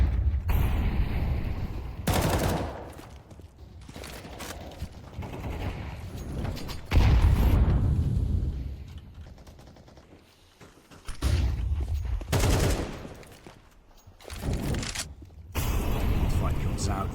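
M4 rifle fire in a Counter-Strike match: repeated bursts of loud gunshots come in clusters separated by quieter gaps, and a commentator talks over the game sounds throughout.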